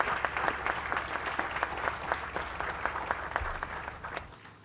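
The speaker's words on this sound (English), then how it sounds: "let's give them a round of applause." An audience at a fundraising celebration applauds steadily, a dense patter of many hands clapping continuously throughout, moderately loud and unbroken.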